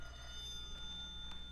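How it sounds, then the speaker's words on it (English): An old telephone bell ringing indoors in a drama scene, a faint steady ring tone with two soft bursts, heard alone without talk. "He was here maybe 2 hours when the phone rang."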